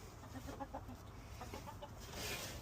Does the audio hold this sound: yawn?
no